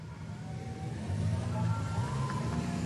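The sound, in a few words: car arriving in the street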